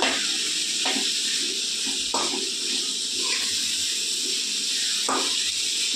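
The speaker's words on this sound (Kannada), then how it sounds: "ಕ್ಯಾರೆಟ್ ಹಾಕೋತಾ ಇದ್ದೀವಿ. ಇವಾಗ ಅದನ್ನು ನೀಟಾಗಿ ಫ್ರೈ ಮಾಡ್ಕೊಳ್ಳೋಣ." Carrots fry in a pan for shavige bath, making a continuous loud hissing sizzle with a few soft knocks from stirring.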